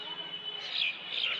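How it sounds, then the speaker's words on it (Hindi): Birds chirp outdoors in short, high, bright tweets, a couple of clear bursts close by, with faint low background noise underneath and no speech. "चिड़िया बोल रही है किधर।"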